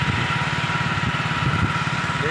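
A motorcycle engine running while riding on a road with a tempo vehicle coming up behind, a steady low throbbing drone heard close and fairly quiet, with no talk.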